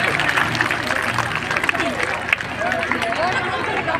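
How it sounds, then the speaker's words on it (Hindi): Crowd applause at a Congress women's conference in Bhiwani welcoming Shruti Chaudhary: dense, continuous clapping from a large gathering mixed with crowd hubbub and chatter, with a background voice over a loudspeaker. "बहन श्रुति चौधरी के लिए जोरदार तालियां बजाकर स्वागत कीजिए।"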